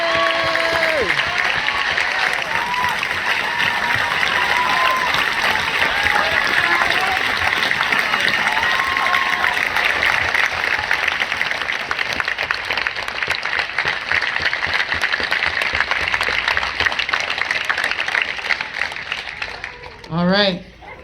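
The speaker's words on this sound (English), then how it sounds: "Can we get one more round of applause?" A crowd at an outdoor Black Perspective march in Burlington, Vermont applauds and cheers in a long, loud, unbroken roar of clapping that fades out near the end.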